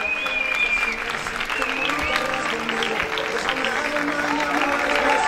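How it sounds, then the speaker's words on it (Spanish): Audience applauding at the closing ceremony of a school olympiad, a steady wash of clapping for two participants, with cheering voices and talk mixed throughout. "un aplauso para los dos"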